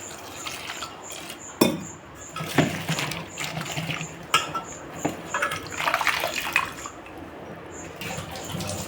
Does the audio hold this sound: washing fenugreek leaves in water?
yes